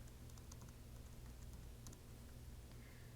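Soft, faint keystrokes on a computer keyboard while filling in an online client form, sparse clicks above a steady low background hum, no voices.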